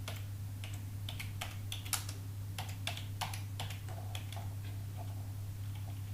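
Keys on a computer keyboard click in uneven, slow bursts of single taps, close and fairly quiet over a steady low hum, typed one-handed at a slow pace.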